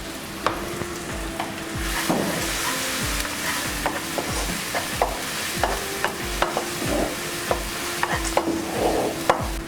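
Masala pulao spices, including coriander powder and chili powder, are stirred in a hot pan, with a utensil scraping and tapping in repeated strokes over a steady close sizzle of frying, with no talking.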